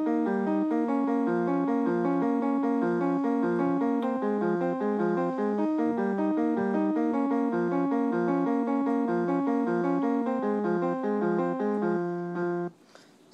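Solo piano plays a repeating arpeggiated figure, a steady cascading pattern of even notes over about thirteen seconds, close and clear, ending abruptly with no talking.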